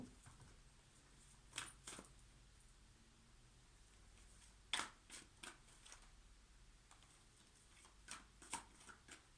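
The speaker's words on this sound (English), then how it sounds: "Shuffle them." Tarot cards are shuffled quietly by hand in a soft, irregular run of riffles and taps, close but faint, with occasional sharper snaps.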